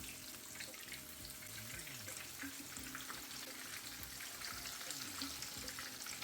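A panko and parmesan fish fillet shallow frying in hot oil, a steady faint sizzle and hiss throughout with no distinct events or speech.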